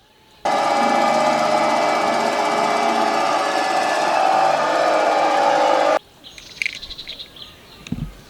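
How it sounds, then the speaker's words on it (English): A big road roller's engine runs loud and steady for several seconds, then cuts off abruptly, leaving quiet background with scattered faint clicks and chirps. "This is a big size road roller."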